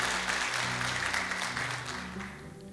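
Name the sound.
audience applause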